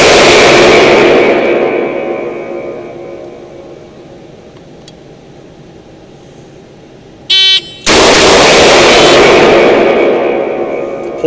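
A duty revolver fires at a shooting range: a loud reverberant blast, then a short electronic timer beep followed by another loud, echoing shot that rings out and decays slowly.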